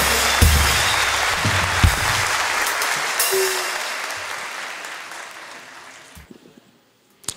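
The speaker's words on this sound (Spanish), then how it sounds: "Un fuerte aplauso." Loud audience applause at a live comedy show, dense clapping with a few whistles and shouts that gradually fades out near the end.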